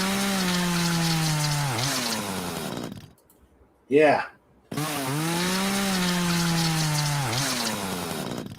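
Two long revving bursts with pitch sweeps resemble a chainsaw running, loud and close, separated by a brief pause where a voice speaks.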